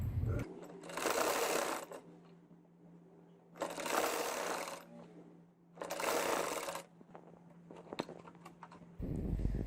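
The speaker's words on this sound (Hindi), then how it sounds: "इसके बाद मैं यहाँ पर सेंटर पर सिलाई लगाऊंगी।" A sewing machine stitches down the center of a patch on a kameez (shirt) in three steady runs of whirring, each about two seconds, separated by quiet pauses and handling sounds, with a brief restart at the end; no talking.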